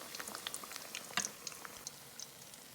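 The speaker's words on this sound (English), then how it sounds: "Dip that plantain into the batter and put it in that hot oil and fry it." Batter-dipped plantain fries in hot oil, giving quiet irregular crackles and pops that are soft and close and fall in an uneven patter, with no talk.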